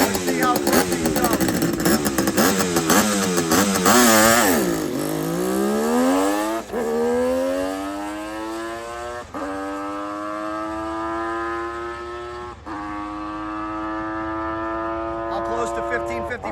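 Two-stroke drag racing engines at a drag racing nationals rev hard and buzz loudly, a shrill, rising then falling snarl that sweeps up repeatedly as the machines launch and pull away, with brief gaps between gear changes.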